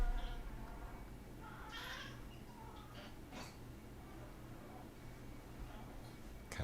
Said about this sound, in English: Cat's bitching it